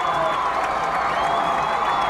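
Football crowd at a 1998 high school game roaring and cheering after a touchdown, a steady wash of distant applause and shouts filling the short moment without a break.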